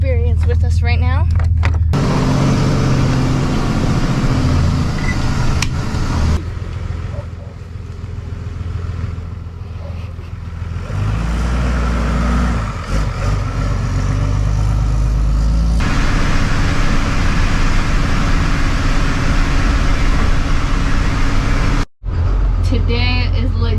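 A step van drives along with its door slid partly open, a loud steady engine rumble and road roar that dips briefly near the end, with people talking over it.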